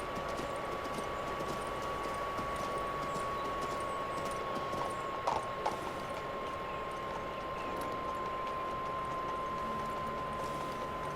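Horse walking slowly through a town in the video game King's Bounty 2, its hooves clip-clopping softly in a steady rhythm beneath a constant tonal game ambience, with no one talking.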